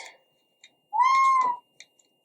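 A single cat meows close by, one drawn-out clear call lasting about half a second, with a few faint clicks and rustles before and after in an otherwise quiet room.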